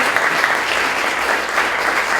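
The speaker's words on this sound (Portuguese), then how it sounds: "aplauda bem bonito a palavra de Deus" Congregation at a youth worship service in a church applauds, a steady dense clapping wash that fills the space evenly for a couple of seconds with no talk over it.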